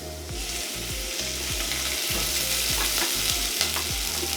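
Onions frying in oil for githeri make a constant close sizzle and crackle, with a regular low pulsing hum running underneath.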